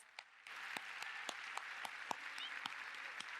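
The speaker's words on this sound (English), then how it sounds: "A big round of applause." Audience applause at an evening event celebrating women's sport starts abruptly after a brief quiet moment, then continues as a steady, moderately distant crowd clapping with a few sharper individual claps punctuating it.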